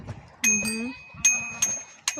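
A bicycle bell rings in several sharp bright dings, spaced out near a pond with geese, while someone talks between the rings.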